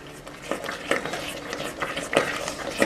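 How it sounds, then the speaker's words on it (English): A wooden spoon stirs melting cheese in a boiling pot for halawet el jibn, a stuffed sweet cheese dessert, giving repeated scraping, sloshing strokes at a steady rhythm, close and fairly clear. "You just gotta keep on mixing while it's boiling."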